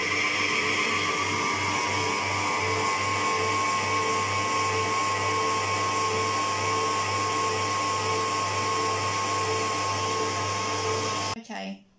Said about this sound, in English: Then turn up the speed to whisk faster until it becomes white and fluffy.